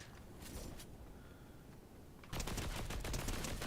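LMG light machine gun in the Fortnite video game firing in a dense, rapid rattling stream, faint at first and then louder and sustained for the last second and a half, with no speech.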